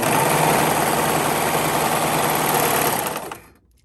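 A serger sewing machine runs fabric through after its blades are repaired, giving a loud, steady, fast mechanical whir up close that cuts off near the end.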